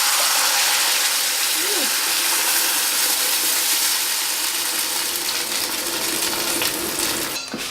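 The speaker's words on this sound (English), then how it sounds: "I'm going to fry the sauce." Mole sauce poured into a tablespoon of hot olive oil gives a loud, close, spattering sizzle that settles into a steady hiss. A few faint clinks follow, and a brief sharper burst comes at the end.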